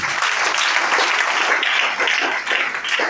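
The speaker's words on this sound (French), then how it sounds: "Acclamons très bien pour le Seigneur." A congregation at a French-speaking religious gathering claps in praise, a steady, dense wash of applause that holds at an even level throughout, loud and close with no pauses.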